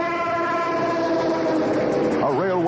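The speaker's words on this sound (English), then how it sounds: "a railway tank car speeding through the rolling plains of Ohio" A railway tank car train carrying coal tar passes across open Ohio plains, a steady loud rumble with sustained tonal horn-like bands throughout and a wavering pitch bend near the end.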